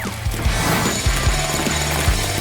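A hole is bored through the centre of a layered, cream-coated cake, giving loud, close, jackhammer-like rattling with a string of rhythmic heavy thumps throughout.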